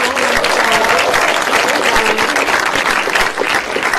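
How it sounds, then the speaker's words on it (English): An audience applauds student panelists at an evening event with Rev. Jesse Jackson, a loud, dense burst of sustained clapping from a crowd, steady for several seconds with no talk over it. "Let's have some applause for our student panelists."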